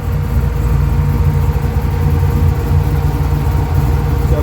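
A 1954 Oldsmobile 88 V8 idles with a steady, deep rumble and a low throaty tone from its dual Flowmaster-style exhaust, electric fans buzzing, continuous and close with no breaks.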